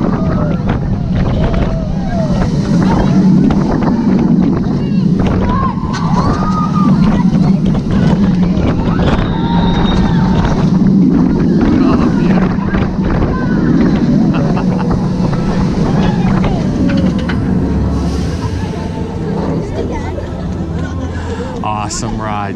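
Riding the Mako roller coaster at SeaWorld Orlando, with loud, constant wind rush and rumbling track roar throughout and faint voices and shouts mixed in.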